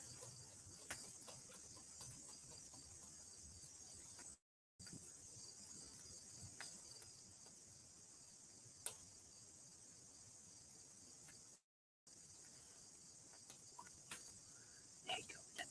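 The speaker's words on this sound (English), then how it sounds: "Crickets." Crickets chirp steadily at night beside a campfire, a continuous high trilling bed that runs throughout at low level, with faint scattered ticks and pops and two brief silent gaps.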